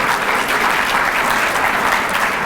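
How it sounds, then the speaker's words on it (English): A crowd at a Chamber of Commerce event at the Virginia Capitol gives a round of applause, loud, dense and steady clapping filling the room without pause. "So if we could give Barry another great round of applause"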